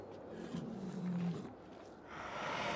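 A wolf growls in an icy cave in the video game Lords of the Fallen, a deep, rough snarl that swells and fades over a few seconds, with no talk over it.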